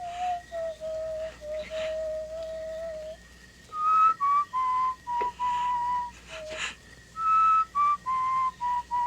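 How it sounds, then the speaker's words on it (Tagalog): Someone whistles a slow tune in clear, sustained tones, with separate phrases and short pauses between notes, close and alone without talk. "Hindi ko kursunad ang tunog ng sipol nun."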